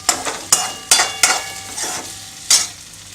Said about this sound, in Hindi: आलू को हम हिला देंगे।